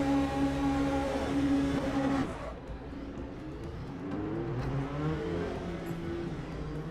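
Race car engines idling and pulling away on a formation lap in Le Mans Ultimate give a steady tonal drone that drops in pitch midway, then climbs again as revs build.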